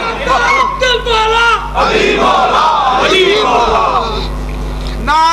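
A crowd at a religious gathering at Qadam Gah Moula Ali in Hyderabad, Sindh, chants slogans in unison: loud, massed voices rising in repeated bursts that fill the hall throughout.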